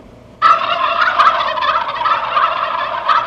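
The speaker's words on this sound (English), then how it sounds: "Yes, just look at all those turkeys." A flock of turkeys gobbles loudly and continuously, rapid warbling calls overlapping after a quiet start, with no voices.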